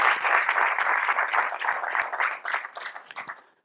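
An audience at a film-industry conference claps in a full, brisk burst that thins out and fades into a few scattered claps before stopping.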